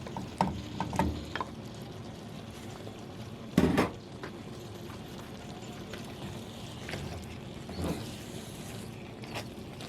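Chopped Napa cabbage and peanut-shaped Korean rice cakes being stir-fried in a pan: a steady low sizzle with scattered utensil scrapes and clacks, and one louder knock near the middle.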